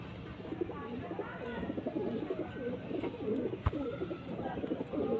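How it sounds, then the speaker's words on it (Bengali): Male and female pigeons coo steadily at close range, the soft repeated calls running continuously through the clip with one brief knock partway. "এটা মাদা পায়রা, এটা নর পায়রা।"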